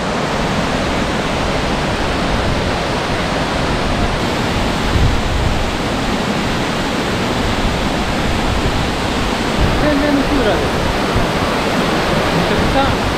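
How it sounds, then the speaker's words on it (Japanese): A mountain-trail waterfall roars with a steady, dense rush of falling water and spray, loud and unbroken throughout, while a voice speaks faintly underneath. "おお、シーレンの滝、"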